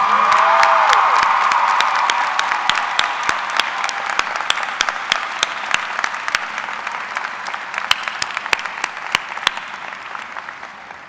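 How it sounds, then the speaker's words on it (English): An audience at a graduation ceremony applauding, a dense wave of clapping that starts full and gradually thins, with individual claps standing out toward the end, heard from within a large hall. "Let's give them a big round of applause."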